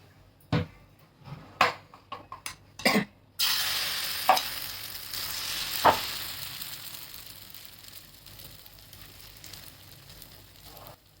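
Oil poured around a wheat-flour and egg breakfast in a pan sets off a bright, close sizzle after a few sharp knocks and clicks. The frying hiss then settles and slowly fades, with occasional pops.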